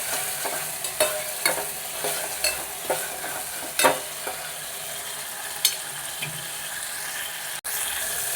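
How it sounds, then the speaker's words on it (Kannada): Chilli and tomato fry in an oiled pan with a steady sizzle, punctuated by regular scraping clicks of a spatula stirring, close by and without speech. "ಒಂದು ಮೆಣಸಿನ್ಕಾಯಿ, ಟೊಮೊಟೊ ಹಾಕ್ಕೊಂಡು ಸ್ವಲ್ಪ ಚೆನ್ನಾಗಿ ಫ್ರೈ ಮಾಡ್ಕೊಳ್ಳಿ"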